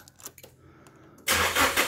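A car engine cranks and fires up abruptly, catching loud and steady after a quiet stretch of faint shop noise; the engine is set at 15 degrees timing and has a faulty mass airflow sensor.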